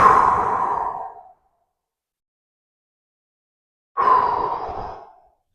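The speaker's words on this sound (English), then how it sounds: "taking some deep breaths here" Two long, deep breaths from someone holding a bottom squat, each a close, breathy exhale lasting over a second, separated by a few seconds of silence.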